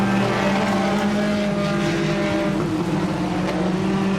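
Junior sedan race cars lap a speedway circuit through a hairpin and down a straight, their engines droning steadily at mid distance in a continuous buzzing whine.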